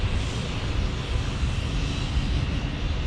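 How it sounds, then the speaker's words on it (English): An American Airlines Airbus A321 bound for Phoenix taxis out at San Diego airport, a steady, fairly loud jet engine roar with no voices. "American Airlines here taxiing out"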